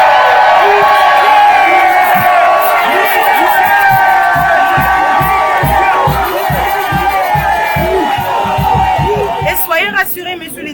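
Crowd cheering and acclamations for a director general at a staff thank-you ceremony, loud sustained whoops and shouts with rhythmic clapping and voices throughout, tapering at the end.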